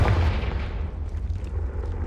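Deep booming blast of the Confringo fire spell in Hogwarts Legacy, a heavy low rumble that rolls on steadily for a couple of seconds with no voices.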